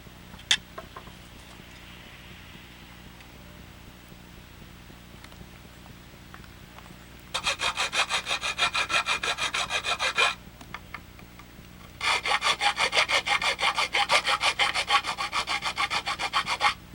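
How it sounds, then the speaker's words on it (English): A file rasps back and forth to enlarge a screw hole in a bracket, in two long bursts of quick, even strokes, close and fairly loud, separated by quiet pauses. "Just enlarging that hole a little bit? Just elongating it because it's not lining up exactly right."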